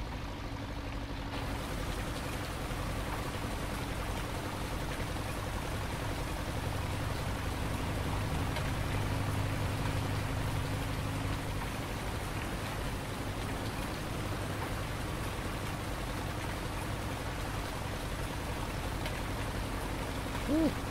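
Steady outdoor rain in Montana patters and hisses continuously, with a faint low hum underneath and no clear voices.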